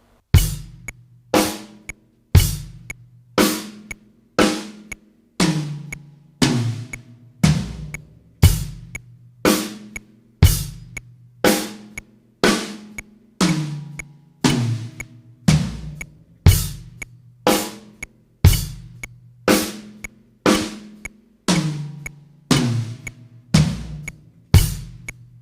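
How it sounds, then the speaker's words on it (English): Sharp drum hits in a steady groove, each strike ringing out before the next, running about twenty-five seconds with no voices; the pattern holds fairly even throughout, a beginner's basic beat and first fill. "That's your first drum fill."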